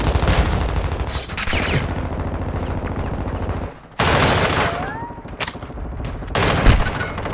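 Dense Call of Duty gunfire, rapid machine gun bursts mixed with single shots and booming impacts, fires loud and close in a sustained fusillade that drops out briefly before resuming.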